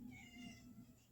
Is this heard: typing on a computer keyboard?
no